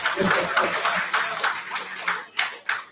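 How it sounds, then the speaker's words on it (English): Scattered clapping from a small town hall audience honoring a member of parliament, fairly near and uneven, with a voice briefly heard at the start before the claps thin out into a few last isolated ones. "Give another round of applause for the Great South."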